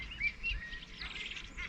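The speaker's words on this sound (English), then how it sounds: "Bloody seagulls." Seagulls call over a fishing lake at Hallcroft Fisheries with a few thin, fairly faint cries above quiet outdoor ambience.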